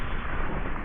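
A grenade explodes in the video game Hytale as a sustained, dense, full-bodied blast that fills the whole brief moment at steady loudness, with no voices.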